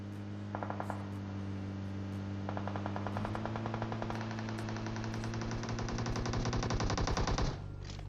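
Automatic gunfire from the mobile battle-royale game PUBG Mobile, rapid bursts of shots crackling over a steady low in-game engine hum, growing denser and louder toward the end before cutting off abruptly.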